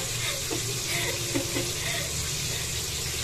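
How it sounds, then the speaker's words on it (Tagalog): Steady sizzling and crackling of food frying in a pan, close and continuous, with a few faint clinks and a voice briefly in the background. "Ang ingay, prito ako."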